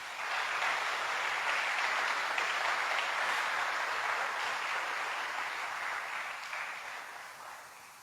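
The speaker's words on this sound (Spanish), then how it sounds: "Denle un aplauso al Señor" A church congregation applauds together during a Spanish-language sermon, a dense, steady wash of clapping that holds at full strength for most of the stretch and then thins out slightly toward the end.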